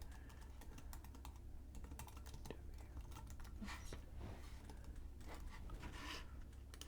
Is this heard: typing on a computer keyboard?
yes